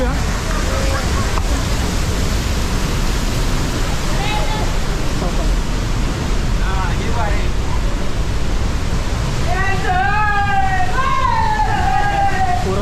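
Steady broadband roar of rushing water at Thoseghar waterfall in India fills the scene, with voices and shouts rising over it toward the end.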